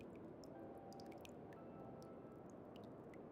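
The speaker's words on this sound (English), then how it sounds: "Do you hear that trickling sound?" Faint trickling water plays in the horror video game Slay the Princess, a soft steady wash with small scattered drips over it, heard alone.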